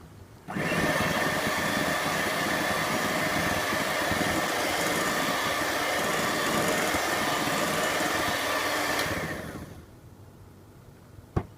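An electric mixer whirs steadily as it beats butter cake batter with milk added, a loud continuous motor drone running for about nine seconds before cutting off, then a single small clink.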